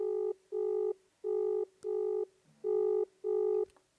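An outgoing phone call to Eshwar Sai rings out as a series of six evenly spaced electronic tones, each about a third of a second long, with no voices.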